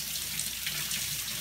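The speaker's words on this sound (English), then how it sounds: "Okay, so now I'm gonna turn my sink water on, cold." Cold water running steadily from a kitchen sink tap, a continuous close hiss and splash with no pauses and no voices.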